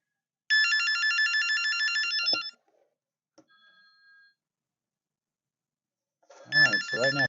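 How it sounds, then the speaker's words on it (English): Terry Phone, a simple phone for the elderly, with its ringer on high volume: a loud electronic trilling ring for about two seconds, a pause with faint tones, then the ring starts again as a voice talks over it. "let's test the ringers now,"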